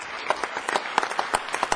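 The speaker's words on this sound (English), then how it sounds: "So one final round of applause for our winners." Brief applause at a city council meeting, a quick scatter of individual claps from a small audience, fairly faint and uneven.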